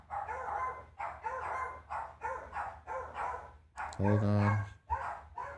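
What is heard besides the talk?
dogs barking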